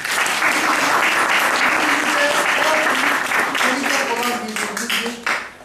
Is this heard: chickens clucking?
no